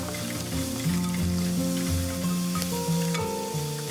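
Bitter gourd and shallots fry in a pan with a steady, loud sizzle that never lets up, while a spoon stirring them adds faint scrapes.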